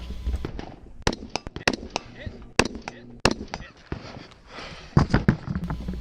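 Gunshots at targets during a two-gun action shooting match stage, sharp loud cracks in quick clusters with irregular pauses, plus fainter distant shots and some background voices.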